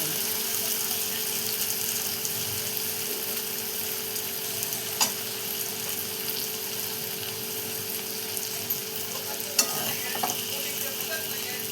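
Ghevda bean pods being stirred and mixed in a pan, with a steady soft sizzle and scraping throughout and a couple of sharp clicks of the spoon against the pan.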